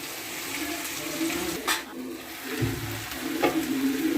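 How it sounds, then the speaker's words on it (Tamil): Vegetables sauté in a pan on a stove over low heat, a soft continuous sizzle with occasional stirring scrapes and clinks, close and fairly quiet. "நல்லா வதங்கிக்கிட்டு இருக்கு."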